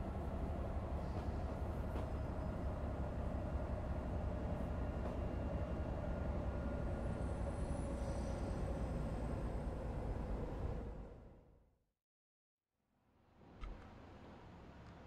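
A video game train rumbles steadily with a low hum and rolling noise, then cuts abruptly to silence before the rumble fades back in.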